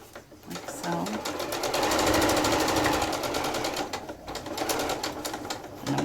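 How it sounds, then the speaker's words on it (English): A sewing machine stitches a quarter-inch seam on a quilted, lined tote, running in a fast steady whir that pauses briefly and then resumes, close up. "I'm just sewing 1/4 of an inch"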